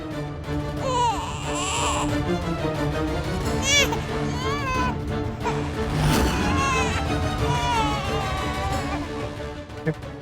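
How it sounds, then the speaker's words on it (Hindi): An infant cries loudly and continuously near the listener in a haveli setting, wailing in repeated rising and falling sobs, with voices mixed underneath. "बच्चे के रोने की आवाज कहाँ से आ रही है?"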